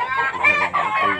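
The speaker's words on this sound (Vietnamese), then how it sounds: "Đây là khu vực nuôi gà," Chickens on a rural household farm cluck and squawk loudly and close by, several birds calling over one another in a dense, continuous burst.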